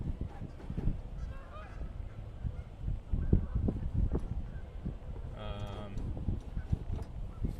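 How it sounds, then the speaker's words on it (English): Geese honk in an outdoor spot in Rockford, Illinois, a cluster of nasal calls midway through, mixed with wind buffeting and bumps against the microphone. "these geese they've already been threatening me"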